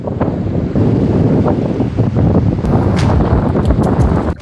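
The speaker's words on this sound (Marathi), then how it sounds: "हे बघ किती मोठा लाटा येत आहे" Large waves wash in at Gangapur backwaters, a loud, continuous watery rush mixed with heavy wind buffeting on the microphone.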